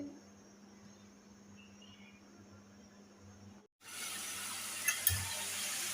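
Spices sizzle in a pan with ginger paste and garlic paste. After a faint, steady hiss and hum, a loud, bright frying sizzle starts suddenly and runs on, with a couple of clinks from stirring.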